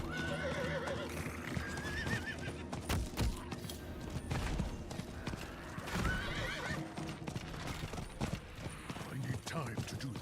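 In a video game, a horse's hooves clip-clop steadily and it gives a couple of whinnies, mixed with creaking mechanisms and other game effects in a busy soundscape.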